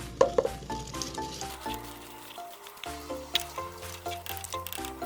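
Rice for chicken pulao is poured into a pot of boiling water, a soft bubbling sizzle with scattered patter and stirring, under quiet background music.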